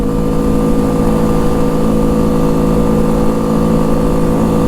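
A 2005 Honda Rincon 650 4x4 ATV pulling hard in third gear on a dirt road, its engine a loud, steady whine with strong harmonic tones, close and continuous with no speech.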